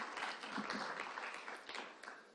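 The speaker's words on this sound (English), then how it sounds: "let's give Amila a big round of applause" Applause from an audience for Amila at a youth entrepreneurship challenge event, a short burst of fairly faint, distant clapping that tapers off.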